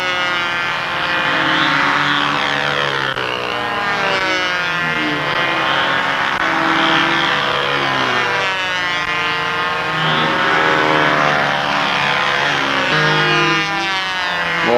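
A control-line model airplane, a profile Cardinal, flies circles at a morning contest field, its small glow engine giving a loud, continuous high-pitched buzz that rises and falls as the plane swings nearer and farther.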